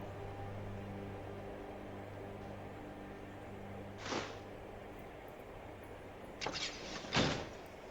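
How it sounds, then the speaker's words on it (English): A door opens in the video game Skyrim, heard as a soft whooshing scrape over a steady low hum, followed by two more brief bursts close together near the end, all fairly faint. "I finally opened the door."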